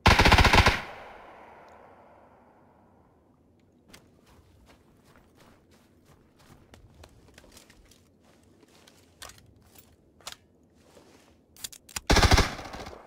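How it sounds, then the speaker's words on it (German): Video game gunfire: a loud burst opens and another closes the stretch, with sharp, scattered single shots and footstep-like taps in between, mostly distant and sparse, with no voices. "Ja, weil ich ihn angeschossen habe."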